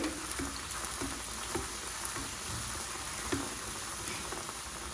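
Broken-wheat neyyappam fries in oil with a continuous bubbling sizzle, while light periodic taps and splashes come as oil is spooned over the top, with no talking.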